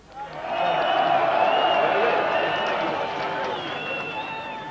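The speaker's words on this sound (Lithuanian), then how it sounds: "Aplodismentai koncernui SBA." Sustained crowd applause and cheering in a large arena at a 1999 Kaunas Žalgiris EuroLeague victory celebration, a dense steady roar swelling quickly and holding, with shouts riding on top.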